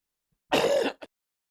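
A single sharp throat clearing or cough close to the microphone, one rough burst followed by a brief second catch, then silence.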